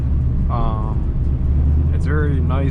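A ported LSA-engined G8 car pulls away and accelerates through its gears, a loud low engine drone with rising tonal sweeps as the revs climb, under a voice speaking close by.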